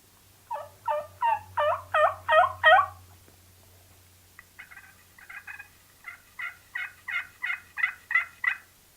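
A hunter imitates a turkey hen on a mouth call with soft, rhythmic calling. One run of about seven rising notes is followed by a short pause, then a second, longer, even run, close and clear over quiet background.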